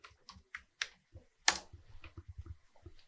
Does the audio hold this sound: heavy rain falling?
no